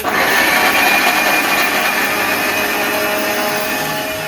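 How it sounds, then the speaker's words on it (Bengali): An electric blender grinds spice paste in a home kitchen with a loud, continuous, high-pitched motor whir that holds steady throughout, with no talking. "তো এখন মশলা পেস্ট করছি"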